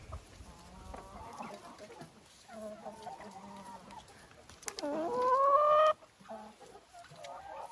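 Laying hens in a coop cluck and squawk at close range, with soft scattered clucks building to one loud drawn-out cackle before easing off.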